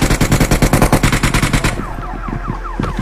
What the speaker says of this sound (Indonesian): Mesinnya ditembak sama dia